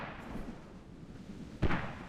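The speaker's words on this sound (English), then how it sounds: "Those might be US mortars trying to hit some infantry here." A single heavy mortar impact booms out mid-distance in the Squad video game battlefield, a sharp thud with a rolling tail over a low rumbling background.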